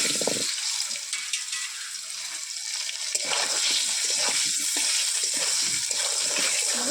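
Potatoes added to hot oil with salt and turmeric give a steady hissing frying sound that swells slightly after a few seconds and carries on evenly to the end.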